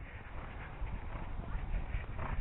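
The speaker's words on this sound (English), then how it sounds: "Got a horse coming inside, so we'll take a bit of a hold" A horse walks past at Flemington, hooves clip-clopping in a soft, uneven rhythm against a dense, muffled background rumble.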